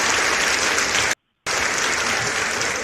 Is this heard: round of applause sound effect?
yes